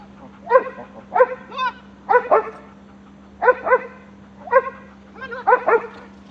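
A reactive dog named Delta barks at another dog in the background, giving repeated bursts of sharp barks in uneven clusters across the whole stretch, close and loud over a steady low hum.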